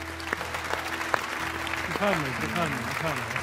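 A studio audience on a Persian TV talk show applauds steadily at moderate level, while a voice continues over the clapping in the second half.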